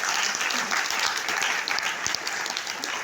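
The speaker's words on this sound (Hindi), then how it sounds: "डॉक्टर नीम के लिए भी एक जोरदार ताली होना चाहिए," A crowd at a business seminar applauds loudly for Doctor Neem, a continuous dense wash of clapping from many hands that holds steady throughout.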